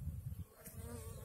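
Honey bees crowd a barrel hive with a steady, close buzzing hum that runs without a break and never swells or fades, with no voices.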